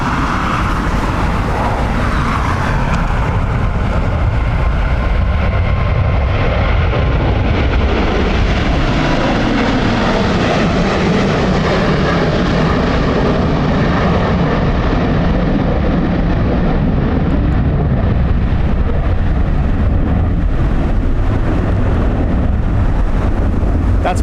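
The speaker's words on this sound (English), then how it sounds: "That's wind shear, no change in configuration, gear still down." An airliner landing at Dublin Airport in a stormy crosswind with wind shear and gear down, a continuous heavy roar of jet engines mixed with loud gusting wind buffeting the microphone.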